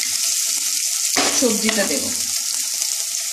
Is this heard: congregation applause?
no